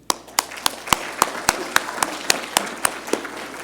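Conference attendees clap in a slow, even rhythm, a dozen distinct claps spaced about a quarter second apart, sounding like a small group or single pair of hands, fairly close over a quiet room.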